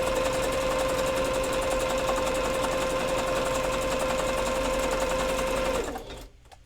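A sewing machine stitches a beanbag dragon tail in one continuous, fast mechanical whir with a steady pitched hum, running several seconds before abruptly stopping.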